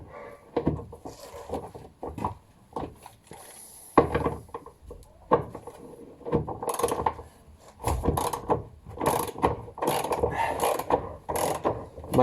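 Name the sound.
ratchet undoing tank strap bolts on MK2 Caddy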